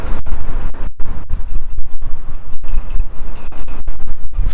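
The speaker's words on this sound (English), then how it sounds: "Oh, look at that gust. We're up to 30 knots now." Loud, buffeting 30-knot wind gusts at the Port of Southampton batter the microphone in continuous rumbling bursts with brief dropouts, no voices present.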